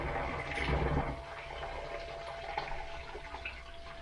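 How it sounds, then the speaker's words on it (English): Water gushing and splashing while a cider extract pouch for a blueberry cider is rinsed, a close, continuous pour that is strongest in the first second and then runs on more steadily. "So I'll just rinse that out with water."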